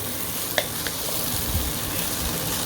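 Chicken fried rice sizzles in a hot pan with ghee and leaves, a steady close crackle broken by a couple of sharp scraping taps as it is stirred.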